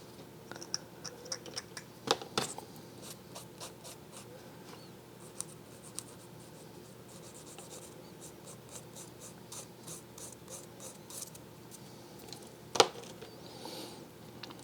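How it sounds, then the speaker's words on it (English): The back of an X-Acto blade scraping a plastic Warhammer model part, giving soft, quick repeated scratches with a few sharper ticks, close and quiet with no speech. "the easiest and fastest way is just to use the back of the X-Acto blade"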